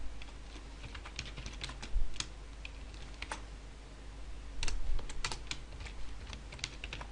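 Keys clack steadily on a computer keyboard as someone types a C++ numerical integration program, with a few louder bursts of keystrokes. The typing is close and fairly quiet, and no one speaks.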